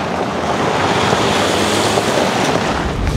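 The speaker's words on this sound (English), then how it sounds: "here I am fording a river just to take a little bit of a shortcut" Mercedes G-Class off-roader fording a river, with loud continuous rushing and splashing water under steady wind noise, close and dense throughout with no talk.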